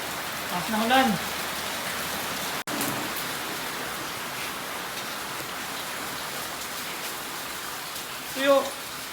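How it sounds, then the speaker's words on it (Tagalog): Heavy rain pours down in a dense, continuous hiss, with a couple of brief voices rising faintly above the downpour. "Taas na ulan."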